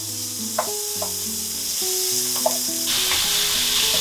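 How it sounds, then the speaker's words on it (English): Steady sizzling of beef frying in hot oil for mapo tofu, with occasional light clinks of a utensil stirring in the pan; no talking. "So we start out with frying the beef."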